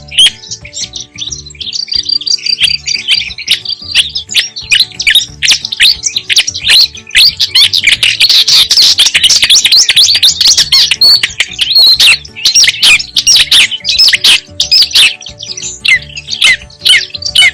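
Marsh warbler pouring out a fast, continuous jumble of chirps, trills and mimicked notes, loud and near with barely a pause throughout.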